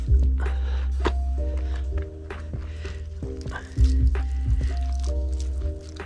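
Wet squelching and dripping as a soaked car wash mitt is squeezed and moved, water splashing in uneven bursts close by.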